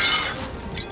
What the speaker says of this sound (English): flinging Quasimodo into a window